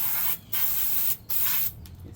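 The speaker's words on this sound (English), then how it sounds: "It's got to be brake parts cleaner." Brake parts cleaner sprayed from an aerosol can in three strong hissing bursts separated by short gaps, close and loud while working on a 2000 Dodge Ram 1500 brake wheel cylinder.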